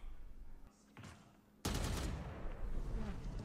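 Gunfire in a Valorant pro match at VCT Champions 2024, a quiet lull broken by a sudden loud burst of rapid shots that continues as a dense fusillade.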